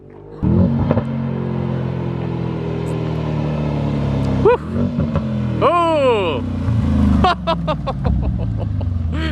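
A loud straight-piped Mercedes E63S AMG exhaust revs repeatedly, rising and falling with sharp pops and crackles, while a person briefly exclaims nearby.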